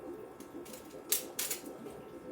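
Pruning shears snip through a branch of a plant over 35 years old, giving two crisp, close cuts about a third of a second apart against a quiet background.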